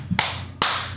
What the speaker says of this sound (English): Hey, look, that ain't clapping. That's belt to ass.